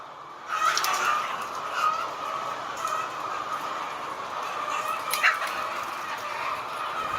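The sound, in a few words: chickens in an egg farm barn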